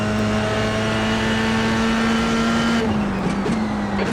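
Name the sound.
racing car tyres sliding, from a video game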